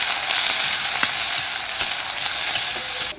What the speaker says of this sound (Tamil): ஒரு பக்கம் உள்ளி வதங்கிட்டு இருக்குது